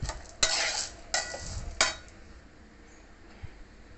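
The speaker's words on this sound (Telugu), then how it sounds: "చింతపండు కూడా వేసి వేయించుకుంటే దాంట్లో ఉండే మాయిశ్చరైజర్ ఏమన్నా ఉంటే పోతుందండి" Tamarind, sesame seeds, cumin and coriander seeds being dry roasted and stirred in a pan for curry spice powder, with a few scraping sweeps and light rattling at close range, then quieter pan noise and no speech.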